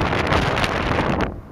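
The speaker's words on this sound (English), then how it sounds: "the wind is picking up" Strong storm wind on the Mississippi River buffets a microphone with a loud rough roar, gusting briefly before dropping off at the end.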